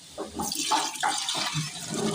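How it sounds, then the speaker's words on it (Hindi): Raw rice being rinsed and rubbed by hand in a pot of water for pulao, a close, steady sloshing and swishing of grains and water with no talk. "ये देखिए अच्छी तरह इसकी मट्टी निकालनी है, अच्छी तरह इसको वॉश करना है।"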